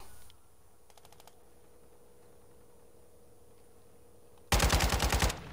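Automatic gunfire in a hardcore match of Call of Duty: Modern Warfare 2. A faint distant burst comes early, then after a quiet stretch a loud, close rattling burst of rapid shots lasts nearly a second, with no talk.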